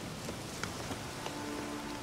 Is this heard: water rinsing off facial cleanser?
no